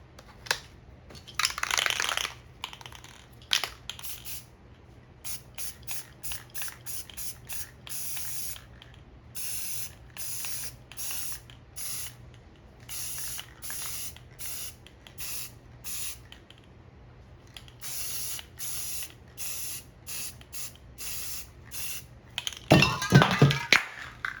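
An aerosol spray can lays a base coat of paint in short repeated bursts, each a close airy hiss separated by brief pauses, with a few louder sputtering sprays at the start and end and no talking.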